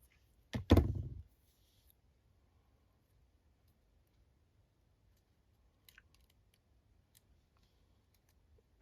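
Scissors snip card for a handmade greeting card, a single close crunchy cut near the start, then near silence with a few faint light clicks later.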